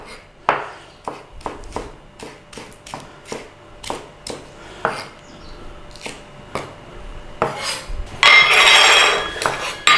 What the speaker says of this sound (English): you either cut it across on a diagonal, and we want about centimetre pieces thereabouts